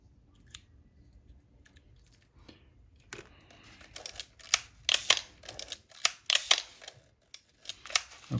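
A Pentax K-1000 film camera's shutter fires repeatedly after servicing for a stuck winding lever and locked-up shutter, giving close, crisp mechanical clicks with winding noise between them, quiet at first and then a rapid run of louder snaps.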